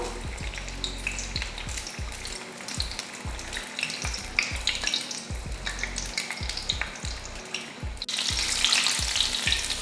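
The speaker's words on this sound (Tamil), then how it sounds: "நல்லா பார்த்தீங்கன்னா பொரிச்சு எடுக்கணும்" Onion samosas in a flour pastry deep-fry in hot oil, turning golden brown. A loud, close, continuous sizzle and crackle fills the whole stretch, growing slightly brighter near the end, with no voices.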